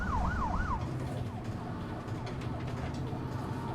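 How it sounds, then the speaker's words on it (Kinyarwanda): Ambulance siren giving a few quick wailing sweeps at moderate distance, then fading into a steady background of traffic and street noise. "Hakuno ambulance tayari."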